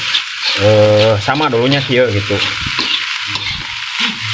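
Rice being stir-fried in a wok, sizzling and scraping loudly and close, while a person talks over the cooking.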